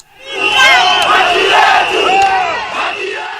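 Loud protest crowd in Kenya heading toward parliament against a finance bill, many voices shouting and whistling together in a dense, close roar that swells and holds.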